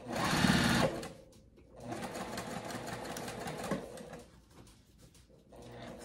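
A sewing machine stitching a circle bag, running in short bursts of fast, even whirring and clatter with pauses between, close up.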